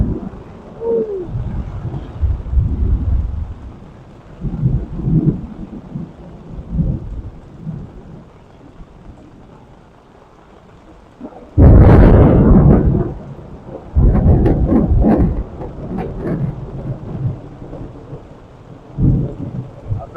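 Thunderstorm at a truck campsite in the Ouachita National Forest: steady rain with loud rolling thunder bursts, one sharp crack near the middle followed by long deep rumbles, no talking.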